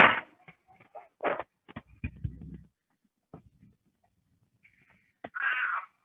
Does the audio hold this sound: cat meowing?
yes